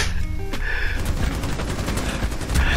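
Rapid automatic gunfire in Rainbow Six Siege, loud dense bursts of shots close up, continuous over a few seconds with a brief tonal cue at the start.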